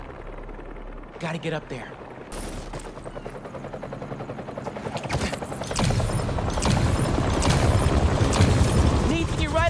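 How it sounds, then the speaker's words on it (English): Helicopter rotor blades thump through dense, loud game action in Spider-Man 2, mixed with gunfire-like bursts and mechanical effects that build toward the end, while someone talks briefly over it. "Oh, a helicopter."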